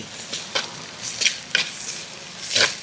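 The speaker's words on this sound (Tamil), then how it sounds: "அதுதான் வெங்காயம் நல்லா வதங்கிடுச்சு" Onions sauté in a home-kitchen pan, giving a steady soft sizzle that is broken by several scraping stirs at irregular intervals. The sound is close and even, with no voices.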